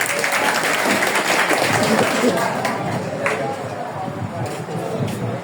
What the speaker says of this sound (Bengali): এই আসাদুল মন্ডল জন্য একটা হাততালি দিছো তোমরা।